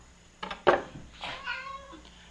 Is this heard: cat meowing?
yes